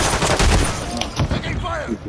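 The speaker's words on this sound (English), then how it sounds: "Taking fire." Heavy video game gunfire, dense automatic bursts and rattling shots at close range with loud booming hits, continuous and overlapping for the whole stretch.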